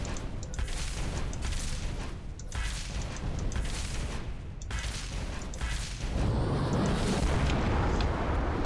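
Sustained rapid booming gunfire from a stationary turret in Halo 3, a dense continuous barrage of heavy shots with no pauses, loud and close, swelling slightly louder toward the end.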